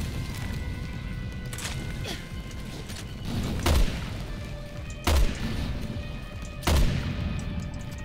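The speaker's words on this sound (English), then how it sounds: "we're shooting the growths on him" Gunfire in Resident Evil Revelations 2 as players shoot at a bulky enemy's growths: three loud, sharp shots spaced a second or so apart, each with a thumping low end, over a steady mechanical game ambience.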